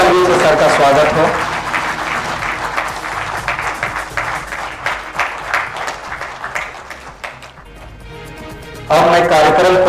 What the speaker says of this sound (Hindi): जोरदार तालियों से सर का स्वागत हो।